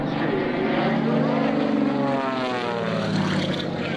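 Aerobatic propeller airplane at the Rhode Island Air National Guard open house air show, its engine droning loud and steady with pitch shifting as it maneuvers, a commentator's voice faintly underneath.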